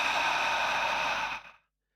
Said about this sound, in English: taking 3 or 4 deep conscious breaths, breathing in deeply through your nose, and then extending your exhale out through your mouth